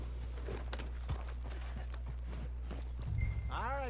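Horse hooves clop steadily in Red Dead Redemption 2 under a low engine-like game hum. Faint rhythmic hoofbeats sit behind occasional game sounds, with a short whinny-like tonal sweep near the end, and a voice is heard briefly.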